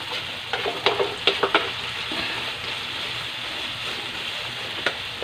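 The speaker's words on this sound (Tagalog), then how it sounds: "Halo natin yung ating karne." Meat being stirred as it fries in a pan for a Filipino home-cooked dish: a steady close sizzle, with a few sharp scraping strokes from the spoon near the start and again near the end, and no talking.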